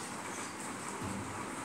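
Train passing in the mobile game Pick Me Up 3D: a steady low rumble with hissing upper noise, growing slightly heavier toward the end, continuous and fairly close with no talk.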